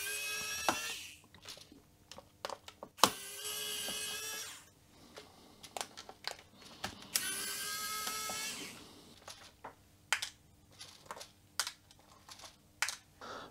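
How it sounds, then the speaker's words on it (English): An electric screwdriver takes the small screws out of the back plate of a Commodore C16 computer, in several short whirring bursts with clicks and handling noises between them, up close and with no talking. "Taking off the back plate is done by removing all these little screws, and that's a lot of work if you don't have an electric screwdriver like this."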